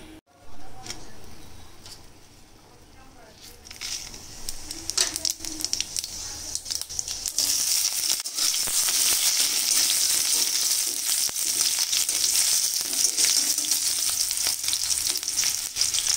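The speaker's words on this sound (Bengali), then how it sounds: "রসুনটা ভাজা হয়ে গেছে।" Steady, loud sizzling of garlic and panch phoron frying in hot oil, a dense crackling hiss that swells after a quieter start and continues without pause.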